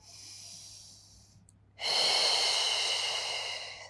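Breathing during a Pilates hip mobility exercise, heard close to the microphone with no talk: a softer breath at first, a brief pause, then a long, loud, steady airy exhale.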